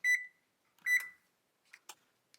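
An oven control panel gives two short, clear electronic beeps as it is set to preheat to 375°F, followed by a few faint button clicks in a quiet kitchen.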